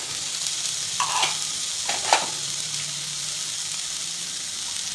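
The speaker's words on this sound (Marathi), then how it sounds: "म्हणजे छान परतले जातात आणि मिक्स पण होतात" Mixed vegetables such as val beans, peas, green chickpeas and brinjal are sautéed in a pan under a steady close sizzle, with a few soft stirring scrapes and knocks and no talking.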